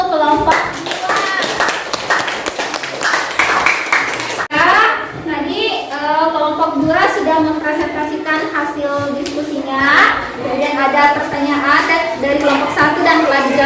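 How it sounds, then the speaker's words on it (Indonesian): A classroom of children claps for a presenting group after a science experiment, brisk rhythmic clapping up close with kids' voices chattering loudly throughout and over the applause. "kita beri tepuk tangan dulu"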